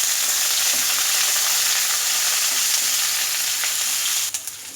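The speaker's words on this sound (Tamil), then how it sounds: "இதை நல்லா வதக்கிக்கலாம்." Crushed ginger and garlic sautéing in hot oil with fennel seeds and curry leaves, a steady close-up sizzle that stays loud and even throughout, ending with a few faint clinks.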